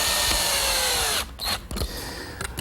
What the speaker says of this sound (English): To round over the edges, I'm just using a portion of a 1/4 inch rounding over bit.